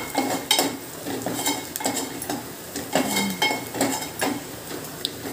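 A spoon stirs sautéed onion with turmeric in a pan, making repeated scraping clinks against the metal over a soft sizzle.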